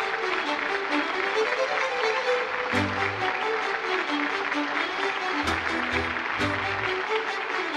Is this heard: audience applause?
yes